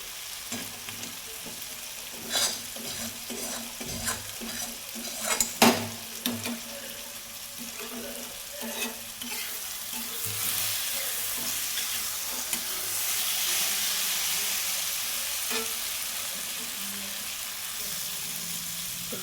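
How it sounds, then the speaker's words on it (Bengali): Garlic frying in a new kadai, a steady sizzle under sharp clinks and scrapes of stirring early on, the frying hiss swelling and staying even toward the end. "রসুন অনেকটা ভাজা ভাজা হয়ে গেছে"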